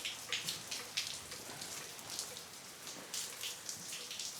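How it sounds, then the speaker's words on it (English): Steady rain patters on surfaces outdoors, a faint, continuous wash of drops with light irregular taps, no voices. "It has not stopped raining."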